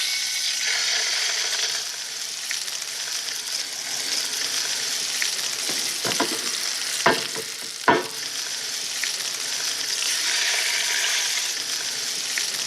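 Pork tenderloin searing and caramelizing in a hot pan: a bright, constant sizzle runs throughout, broken by a few sharp scrapes or clanks midway, close and fairly loud, with no talking.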